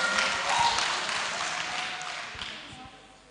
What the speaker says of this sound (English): Clap for him. Clap for him.